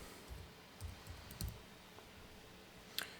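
Keyboard typing for a project settings search in game-engine software, a few faint, scattered clicks and taps spread over a few seconds, with one sharper keystroke near the end and quiet room noise between.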